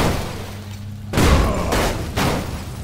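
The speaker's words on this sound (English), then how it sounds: "let's see if the explosion killed him" An explosion in the video game State of Decay, a loud broadband boom that starts abruptly and then rumbles on with a second burst, heard alone with no talking.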